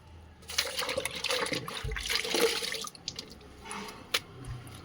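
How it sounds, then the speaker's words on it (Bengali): Water splashes and drips while window grills are washed down at a house near a dusty road, a close irregular spatter that swells for a couple of seconds, then breaks into scattered drips. "আজকে আবার গ্রিল টেলগুলো একটু ধুয়ে মুছে দিলাম"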